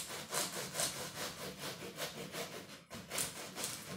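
A knife sawing into an Elmsbury chicken and vegetable pie from Aldi with a crispy, overbaked crust, rhythmic back-and-forth scraping strokes close up with a brief pause near the end.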